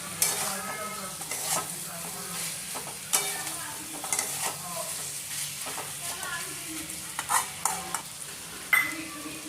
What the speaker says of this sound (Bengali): এবার আমি দিয়ে দিচ্ছি ভাজা চিকেনগুলো,